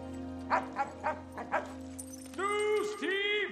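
A dog in the comedy film Anchorman gives a run of short barks, then high whimpering, yelping cries, all heard close over a steady background hum.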